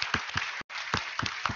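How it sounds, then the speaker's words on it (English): Short burst of applause at the close of a fall extension conference session, a small audience clapping briefly and fairly close, with a brief silent gap partway through. "So round of applause for her."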